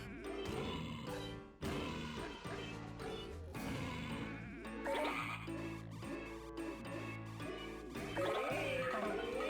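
Sheep bleating in the We Love Katamari video game over the game's busy music, several bleats in a row with crashes of objects being rolled up.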